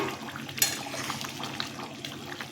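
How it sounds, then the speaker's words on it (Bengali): A lid comes off a pot of simmering katla fish curry with a sharp metallic clink, followed by faint clatter and bubbling liquid nearby, without any talking. "ঢাকাটা খুললাম"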